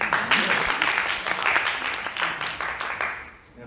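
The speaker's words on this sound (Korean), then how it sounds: "박수 안 주시죠" Audience clapping after a student team introduces itself at a university presentation contest, a steady moderate burst of applause in a room, close and fading slightly at the end.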